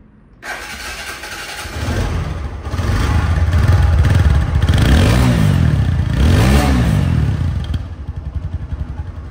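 A second-hand double-disc ABS 4V motorcycle engine cranks and fires up close by, then settles into a loud, steady running drone with two gentle rises in revs before fading out.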